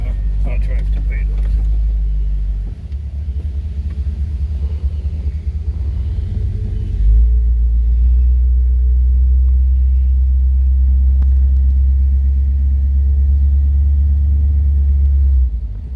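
A 1957 Ford Fairlane 500 convertible engine rumbling while driving, a deep steady low-pitched drone that shifts as it changes gear, loud and close from inside the car, with talk over it.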